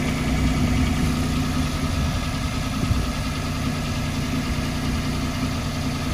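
A Citroen C1 engine idles after an exhaust gasket replacement, a steady, close, continuous low rumble with even vibration and no change in pitch throughout, with no talking.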